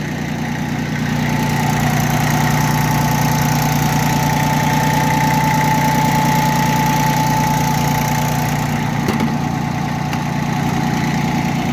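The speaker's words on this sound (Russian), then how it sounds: "Как вы могли слышать, двигатель работает ровно и исправно." A Yanmar FB15D mini tractor's three-cylinder diesel engine idles steadily and close by, a low even rumble with a faint knocking rhythm and no voices.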